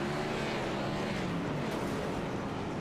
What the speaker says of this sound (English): The sound of Gen 4 machines.